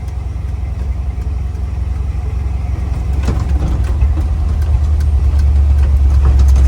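An old, abandoned Ford F-250 pickup runs while driving, its engine holding a close, steady low rumble that builds slightly as it goes, with no talking over it.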